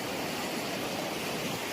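A mountain river in the Kościeliska Valley rushes steadily, a dense, loud, continuous roar of flowing water close by, with no talk over it.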